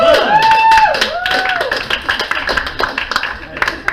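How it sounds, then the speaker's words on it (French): Audience clapping at a live music evening, scattered hands breaking out over sustained tonal sound and voices, fairly close and moderately loud, thinning toward the end. "Une bonne main d'applaudissements."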